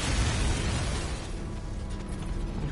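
The Ace Chemicals plant explodes in the Arkham Knight video game, giving a loud, dense rumbling blast that fills the whole moment and slowly thins, with no voices over it.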